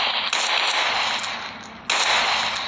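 Gunfire in the Roblox game Brookhaven comes as a loud, dense rattle of shots that dips briefly and then resumes at full force.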